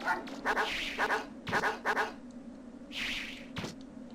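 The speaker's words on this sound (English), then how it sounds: "Ticked off too many dogs." Dogs in the video game Megaman Legends barking in short repeated bursts, fairly close with a few pauses between volleys.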